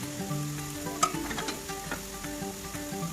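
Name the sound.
frying and stirring potatoes with spice powders in pan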